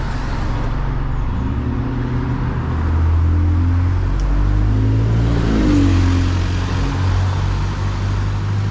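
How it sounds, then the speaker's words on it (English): An Enviro200 single-deck bus drives off from a stop near Iver, its engine droning loudly at close range, the pitch stepping up through gear changes as it accelerates away with a steady rumble. "we're now off the bus and off it goes. Another E200."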